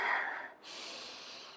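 A slow breathing exercise: a long, audible inhale through the nose followed by a steady, airy exhale, close and clear with no talking over it.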